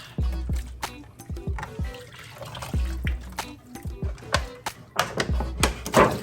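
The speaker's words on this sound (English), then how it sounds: "Now we're rinsing them several times." Water sloshes and splashes in a sink or bowl while chitterlings are rinsed, with irregular bursts of rinsing, trickling and dripping close by.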